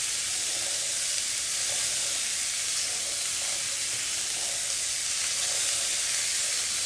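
Food frying steadily in hot oil in a pan, a dense continuous sizzle that stays even and close throughout with no talking.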